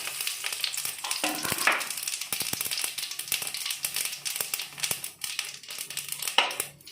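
Cumin seeds sizzle and crackle in hot ghee for a tempering, a steady close frying hiss with scattered sharp pops and crackles, heard alone.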